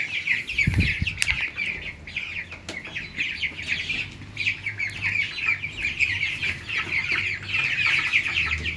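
Several young chicks of a poultry breed cluck and chatter continuously nearby, with a few sharper squawks and faint background noise as they are caught for weighing.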